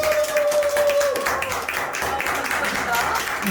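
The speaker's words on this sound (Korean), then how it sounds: "나오실 때 여러분 큰 박수!" Audience at a healing school launch ceremony applauds as the principal comes forward, a broad wash of clapping over several seconds, with a voice and a brief tone audible early on.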